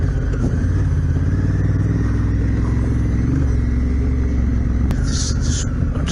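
A motorcycle engine rumbles steadily while riding on a road, a loud continuous low drone with wind noise and a brief clatter near the end.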